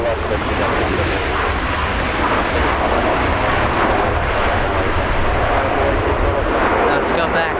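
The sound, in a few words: Delta airliner taking off from runway 24 left at LAX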